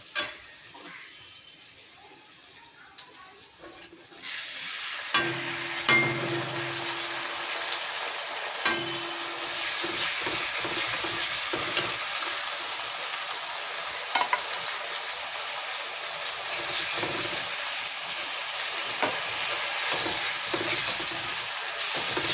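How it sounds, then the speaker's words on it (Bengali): Onion frying with ginger, garlic and cumin paste in a pan while it is stirred, a broad sizzle that swells after a quiet opening and continues steadily, with occasional clinks and scrapes and no talking. "এবার আমি আদা রসুন আর জিরের যে পেস্ট আছে ওটা এতে দিয়ে দেবো"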